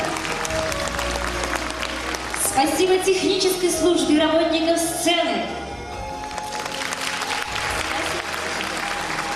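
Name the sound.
audience applause at a concert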